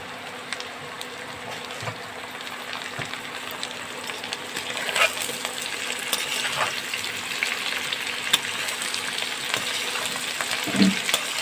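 Onion and ginger sizzle and crackle steadily in a pan before ridge gourd is added, with occasional clinks and scraping stirs over the continuous frying noise.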